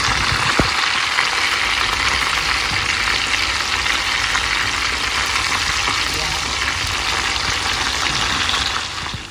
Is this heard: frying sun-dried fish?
yes